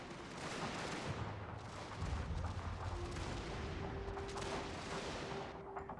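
Gunfire and artillery from a Prussian army in a Scramble for the Far East strategy game rumble as a low, continuous barrage of distant volleys and booms, fairly quiet and unbroken throughout.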